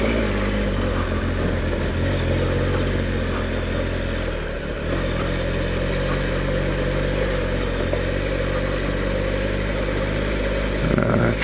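A Triumph Explorer XCa motorcycle rides a gravelly farm track under manual throttle, its engine droning steadily and loud throughout with a brief dip and some rattling near the end.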